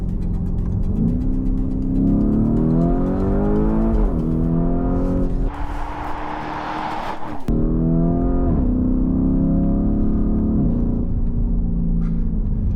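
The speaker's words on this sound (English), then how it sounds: "If you drop the car down into Corsa mode, which I believe translates to absolute lunatic, it really does wake everything up." A Lamborghini Urus engine in Corsa mode revs loudly through rising and falling sweeps, with a brief roaring burst midway before the engine settles back to a steady, up-close drone. No voices are present.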